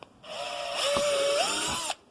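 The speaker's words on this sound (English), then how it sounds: "I'm going to drill a pilot hole for this thing" A power drill bores a pilot hole for an ATV water temperature gauge, a close steady whine that starts up, bears down as the bit bites and holds, then cuts off abruptly after under two seconds.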